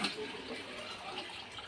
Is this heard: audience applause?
no